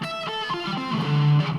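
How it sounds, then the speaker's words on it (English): An electric guitar with distortion plays a short melodic phrase of single notes over a minor ninth chord, ending on a sustained low note, close and loud, with no talk. "ninth chord played with distortion there"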